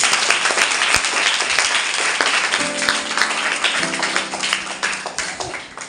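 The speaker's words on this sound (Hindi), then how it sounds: "पहले इशिता के लिए जोरदार ताली मारिए।" Students at a school project presentation clap loudly and continuously for Ishita, a dense wash of applause from a group with a few sustained tones appearing midway.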